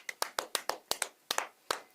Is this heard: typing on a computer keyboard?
no